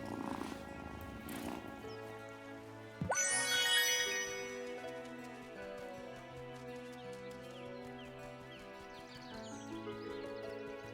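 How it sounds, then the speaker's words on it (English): A cat purrs in the video game Wylde Flowers, a soft low rumble under bright chiming game music with a burst of sparkling tones partway through, faint and steady. "a good purr."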